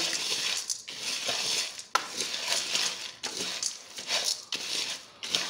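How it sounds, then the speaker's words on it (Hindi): Breeding formula stirred and mixed in a pan over low heat: loud, close, scraping sweeps of a utensil against the pan, repeating in about four rhythmic strokes with short gaps, and no voices. "और हल्की आंच पे इसे भी अच्छी तरह हम मिक्स करेंगे।"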